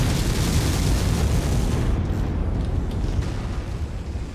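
A light mech's autocannon firing in a video game sounds like a dense, booming rumble of rapid heavy shots, loud at first and then easing slightly toward the end, with no voices.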